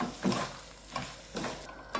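Ingredients being stirred and mixed in a hot pan while making a crispy phool paratha filling, giving a few soft scraping stirs with a light sizzle underneath, quiet and close, no talking.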